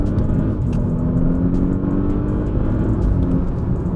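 A loud 2016 Audi S8 engine revs hard and accelerates, a strong rising drone heard from close up, with a few sharp pops.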